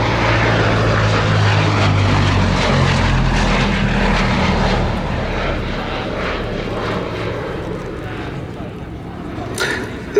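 A 1937 Gloster Gladiator Mark I biplane, the last production Mark I, drones with its propeller engine in a loud, continuous rumble that eases slightly toward the end.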